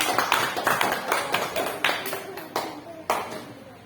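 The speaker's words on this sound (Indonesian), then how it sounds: "Tepuk tangan." A classroom group claps hands in short rhythmic bursts of about eight sharp, close claps that start and stop together, with no talk over them.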